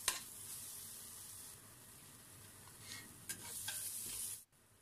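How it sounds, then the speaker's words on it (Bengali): Spice masala of cumin powder, red chili powder and salt frying in a pan for egg korma, with a soft steady sizzle and a few scraping stirs near the start and toward the end, no talking. "এবারে আমি এই মশলাটাকে খুব ভালো করে কষিয়ে নেব।"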